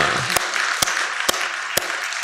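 A church congregation at a Sunday service claps over a constant broadband wash, with strong, evenly spaced claps landing about twice a second.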